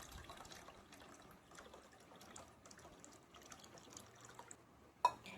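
A chilled milk mixture is poured into sour yogurt in a bowl, making a faint, continuous liquid trickle that ends with one brief louder knock.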